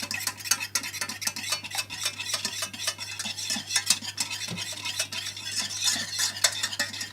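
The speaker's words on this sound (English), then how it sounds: "what I'm going to do is I'm just going to give it a stir" Thick mushroom sauce being stirred in a pan, with continuous rhythmic scraping and light utensil clinks against the metal and a faint sizzle beneath, close and moderately quiet with no voices.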